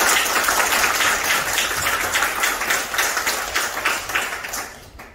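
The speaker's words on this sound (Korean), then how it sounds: "박수 한번 보내주십시오." At a debate forum on same-sex marriage legislation, an audience claps steadily in loud, continuous applause that tapers off near the end.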